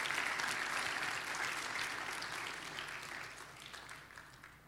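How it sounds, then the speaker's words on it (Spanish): Church congregation breaking into sustained applause after a call to praise the Lord, dense clapping from many hands filling the room, steady and loud before gradually tapering off. "¿Por qué no le damos un fuerte aplauso a ese Señor de gloria?"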